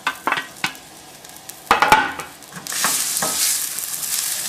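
Onion and garlic hit hot olive oil in a pan over medium heat for a tomato and basil sauce, starting with a few clattering stirs before the loud, steady hiss of sizzling takes over and holds close up.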